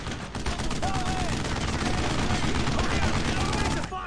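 Rapid gunfire and explosions in the World War II shooter Brothers in Arms: Road to Hill 30, a dense, loud barrage of automatic weapons and blasts with shouted voices mixed into the battle noise.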